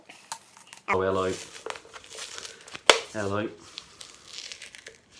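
Paper crinkles and tears in bursts as a multi-layered paper parcel holding a beer is unwrapped up close, with a voice speaking briefly between the rustling.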